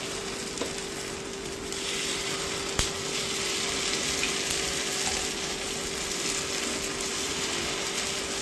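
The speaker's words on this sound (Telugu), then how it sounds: "ఇప్పుడు ఈ గుంత పొంగనాల్లో ఈ పిండి ఫిల్ చేసుకుందాం" Rice batter sizzles and fries in a hot cast paniyaram pan, a soft, continuous crackle close by with a faint steady hum underneath. One sharp click stands out about a third of the way through.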